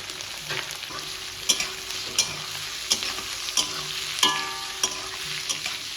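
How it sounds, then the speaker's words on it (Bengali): Slit green chillies, bay leaf, large cardamom, cinnamon and onion sizzle in hot oil, a steady bright frying hiss punctuated by regular clinks and scrapes of a spoon stirring in the pan, with no talking. "তেল গরম হয়ে গেছে এখন ফোড়নে দিচ্ছি চেরা কাঁচা লঙ্কা তেজপাতা বড় এলাচ আর দারচিনি পেঁয়াজ"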